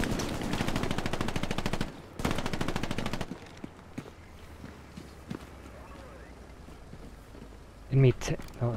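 Rapid machine-gun bursts in a WWII shooter set around Sainte-Mère-Église, loud and dense in the first three seconds, then quieter sporadic shots and rumble with voices talking over the fighting.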